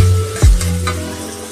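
A paste of ground cumin, ginger, black pepper and cardamom fries in hot oil, giving a close, steady sizzle with a brief stir or scrape partway through.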